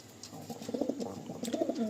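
Pigeons coo softly nearby in low, rolling repeated calls.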